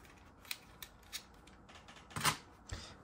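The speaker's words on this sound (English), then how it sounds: "take out the SD card out of your 3DS here" An SD card is removed from a modded Nintendo 3DS handheld with a few small, close plastic clicks and a brief scraping snap in a quiet room.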